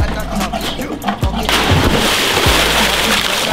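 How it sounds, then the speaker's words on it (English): A person bomb-jumps into a swimming pool, a sudden loud splash followed by sustained churning, sloshing water noise close by, after a short stretch of thumping background sounds. "As soon as my bum touches the water, I'm gonna go bang and kick out."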